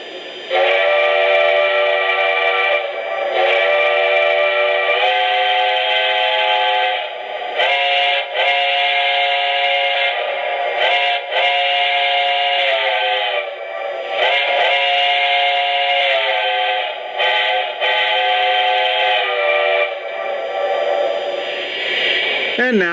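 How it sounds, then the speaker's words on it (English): A Lionel 3-rail O-scale Heisler model steam locomotive sounds its recorded steam whistle in a series of long, loud chime blasts with brief gaps, steady and clean with no voices. "let's check out the whistle."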